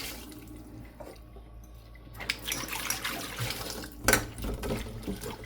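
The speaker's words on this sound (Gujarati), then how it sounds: "આપણે અહીંયા એક વાટકો મેથી લીધી છે, તો એને આપણે ધોઈ નાખીએ" A bowl of fresh green fenugreek leaves is rinsed by hand in water, with soft drips and trickles that swell into two brief sloshing splashes as the leaves are stirred and lifted.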